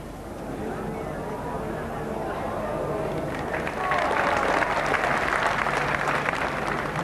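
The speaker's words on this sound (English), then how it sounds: "Got some applause, that ball" Spectators applaud a bowled ball at a 1988 ladies' lawn bowls match at Waterloo. Quiet murmuring gives way to a burst of steady, fairly distant clapping that holds through the second half, under a commentator's voice.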